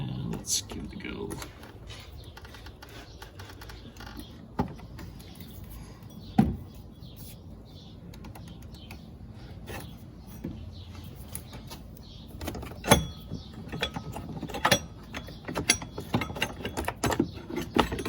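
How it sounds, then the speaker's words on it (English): A long handle ratchet clicks and creaks while loosening a power steering pump pulley bolt on a Honda Pilot, with scattered sharp metallic clacks and knocks in bursts over a quiet background. "So then I got my long handle ratchet here."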